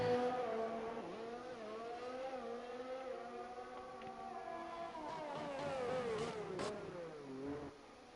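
F1 race car engine in a racing video game during a Chinese Grand Prix esports session, a high-pitched engine whine rising and falling through gear shifts, fairly quiet and steady with no speech.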